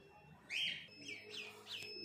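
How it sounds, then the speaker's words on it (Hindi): Duck chicks hatched in an incubator on a small farm give a few faint, high, rapid chirps, spaced irregularly over a soft background hum. "अभी आपको चूजे दिखाते हैं इनके"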